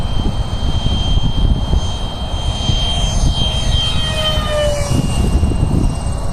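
HL MiG-15 model jet fitted with wheels flying on a windy day, its engine a steady loud whine that drifts in pitch as it passes overhead, with no talk.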